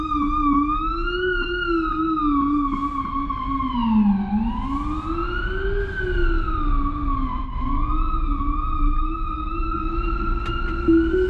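An emergency vehicle siren wails nearby in traffic, its tone sweeping slowly up and down in long cycles and staying loud throughout over a low road rumble.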